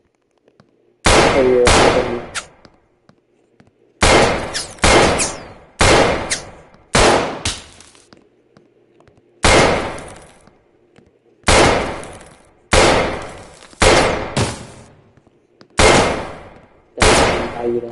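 Loud bursts of automatic gunfire in a Roblox military training game, about a dozen short volleys separated by brief silences, each ringing out and decaying, with a few words spoken near the start.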